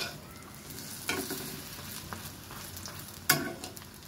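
Naan-style flatbread made from flour and egg fries in hot oil, a continuous close sizzle with a couple of sharper clacks and scrapes as the pieces are moved, no voices.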